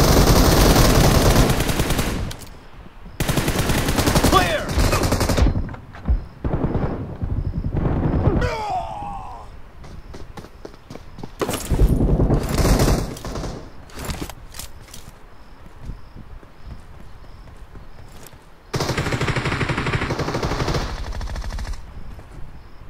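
Automatic and single gunfire from a team-based online shooter game, loud bursts in several clusters separated by short quiet gaps, with a sustained volley near the end.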